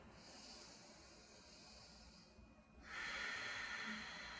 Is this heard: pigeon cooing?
no